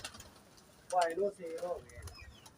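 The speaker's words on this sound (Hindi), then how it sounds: "ये जाल के कबूतर हैं" Pigeons coo softly nearby in a couple of low, throaty bursts, at a pigeon club, with quiet background noise around them.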